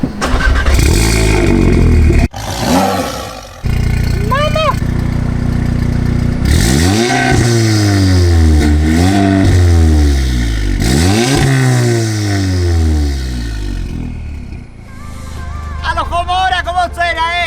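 Audi S3 with a downpipe and OPF removed cranks and fires, then revs hard in repeated loud surges with crackling between them, voices chattering underneath.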